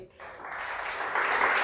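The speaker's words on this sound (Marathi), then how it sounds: "आपण स्वतःसाठी टाळ्या वाजूया" A church congregation breaks into applause, a dense wash of clapping that starts abruptly and swells louder toward the end, with voices mixed in.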